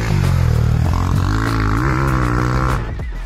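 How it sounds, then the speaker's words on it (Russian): An Apollo M5 motorcycle with a factory Akrapovic straight-through exhaust gives a loud, deep, bassy engine drone up close, holding a steady note before the revs shift and then trail off. "В стойке с завода мы имеем прямоточный глушитель Акропович с приятным басовитым звуком"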